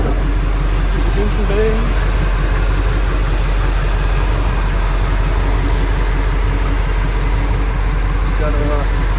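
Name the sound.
1985 Chevrolet K5 Blazer engine idling after cold start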